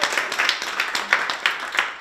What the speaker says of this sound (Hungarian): Úgyhogy egy nagy tapsot a gyerekeknek, a tanároknak és a szülőknek is